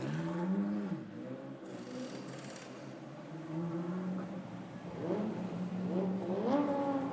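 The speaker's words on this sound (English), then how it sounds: "most of the cars starting to make their way down to the pit exit to get ready for the start of this one" GT race cars at Sepang circuit crawl toward the pit exit before qualifying, their engines droning and rising in pitch in a series of revving surges, several cars close by and loud, no voices present.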